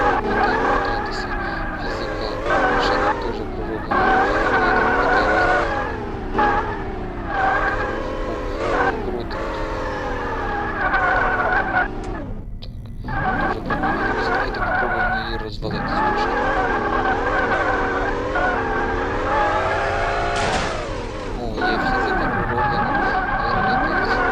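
Car driving and skidding in the sandbox video game BloodBox, with a steady engine drone, rising and falling revs and repeated tire squeals, loud and continuous, while a person talks over it.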